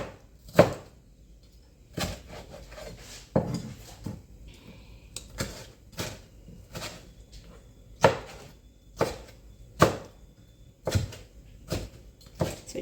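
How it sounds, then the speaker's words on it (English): A knife chops salsa ingredients on a cutting board in steady, sharp strokes, each hit distinct and close, repeating roughly every second with brief pauses and a few quicker double taps. "So just give it a nice chop."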